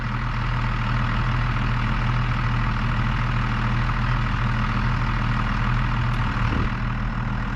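A truck engine idles steadily, a loud continuous low rumble that stays even for the whole stretch, close by, with no talking.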